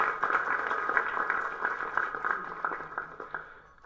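An audience at a movie audio launch claps and cheers in a crowded room. The applause is moderately loud and gradually fades toward the end.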